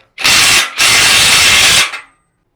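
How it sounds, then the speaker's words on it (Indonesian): A Mollar CIW20750 Gen 3 cordless impact wrench tightens an M24 bolt during a torque test. Two loud, close bursts of whirring hammering come one after the other, separated by a brief pause, then the tool stops sharply. "Kita akan kencangkan lagi ya untuk pengujian torsi berikutnya."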